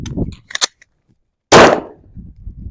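Pistol fired at an outdoor shooting range during reload practice: a single loud, sharp gunshot with a quick echoing decay, preceded by faint handling clicks.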